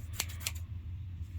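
Scissors snipping through thick waxy paper bags, with two sharp cutting crunches close by over a steady low hum.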